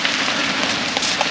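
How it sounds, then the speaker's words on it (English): Rain and wind at a campsite at night, a steady broadband hiss of light rain with gusts flapping a tarp, continuous and fairly loud with no talking. "We're back at camp and the rain and wind has started."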